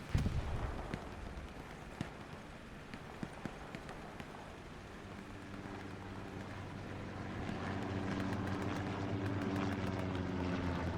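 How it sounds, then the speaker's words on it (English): An aircraft engine drone from a recon plane passing overhead in the WWII shooter Hell Let Loose during a competitive match, the steady propeller hum swelling louder over the second half amid distant gunfire and battlefield ambience. "Another 34th recon plane going directly over the point, marking up pretty much everything."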